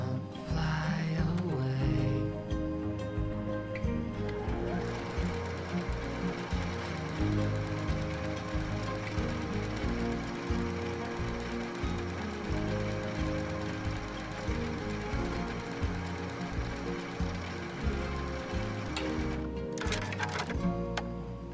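A sewing machine stitches strips of quilt fabric together, a close, rapid mechanical chatter running steadily for the whole stretch with brief pauses near the start and end.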